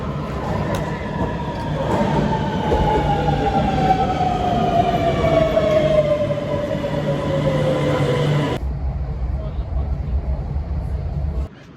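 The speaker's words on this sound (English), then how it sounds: "we're just about to jump on a train to Malmo and then across to Stockholm from Malmo" A passenger train running between Copenhagen and Malmö, with a steady rolling rumble and a long drawn-out wheel squeal that slowly falls in pitch, ending in an abrupt shift to quieter interior running noise.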